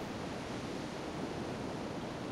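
A huge waterfall in the video game Grandia II roars as a steady, dense rush of falling water, loud and unbroken, with no voices over it.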